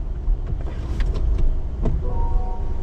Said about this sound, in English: Then you swipe and hold, and then we're gonna raise the top.